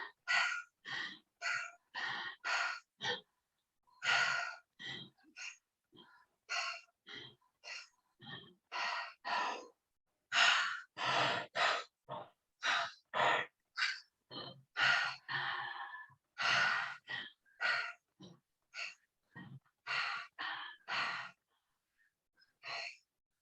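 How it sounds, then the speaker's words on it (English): A group breathes together through the mouth in a guided exercise: rhythmic sets of four short huffing breaths followed by one long exhale, repeated steadily and fairly close. "4 short breaths, 1 long one, 4 times again through the mouth"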